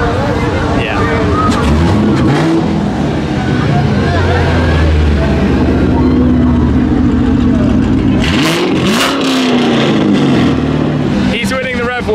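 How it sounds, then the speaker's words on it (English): A heavily modified, very loud Corvette lowered to the ground revs hard repeatedly on a Hollywood street, the engine roaring and rising and falling in pitch throughout, with people talking over it. "He's winning the rev war."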